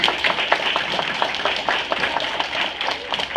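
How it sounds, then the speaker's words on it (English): An audience applauds together in a steady, dense patter of many hands, fairly close and sustained throughout with no talking. "give them all a round of applause, please"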